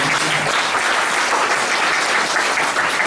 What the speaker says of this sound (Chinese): 那我们就非常再次掌声谢谢陈老师